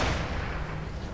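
Heavy gunfire in the shooter game Gears of War 3, a loud, dense burst of booming shots at close range that fades slightly over about a second, with no talk.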